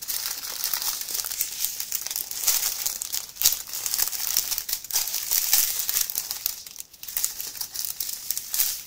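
Packaging for a diamond art kit crinkles and rustles continuously during an unboxing, close and busy, with crackles and occasional tearing sounds and no talking.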